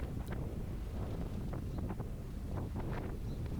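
Steady wind buffets the microphone at an outdoor baseball game, a constant rushing roar throughout with faint crowd or field sounds in the background.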